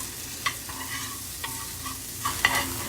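Garlic and onions fry in a pan with a steady close sizzle, broken by a few light clicks of stirring, with no voices.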